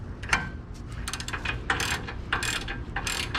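Ratchet clicking while torquing down frame bolts on an old pickup, bursts of quick metallic pawl ticks in short uneven runs, close and fairly quiet with no talking.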